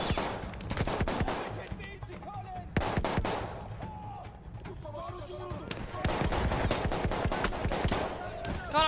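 Gunfire in the Battlefield 1 desert campaign: repeated sharp shots and rapid bursts, some near and some distant, over busy battle noise with occasional voices.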